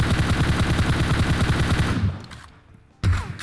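Automatic gunfire in the mobile game PUBG: a rapid, loud burst lasting about two seconds, then a brief pause and a second sharp shot.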